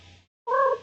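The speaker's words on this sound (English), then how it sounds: "Or at least stop meowing." A pet cat lets out a loud, close meow after a short silence, preceded by a fainter sound, with no talking.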